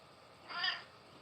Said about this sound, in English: it's really hard to talk over your fucking meows.